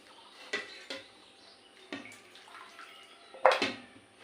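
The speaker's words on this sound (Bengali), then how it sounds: "এই যে আলুগুলো আমি এবার ঠান্ডা জল থেকে তুলে নিচ্ছি" Potatoes being lifted by hand out of a bowl of cold salted water, giving a few separate wet splashes and drips at a close distance, with quiet pauses in between.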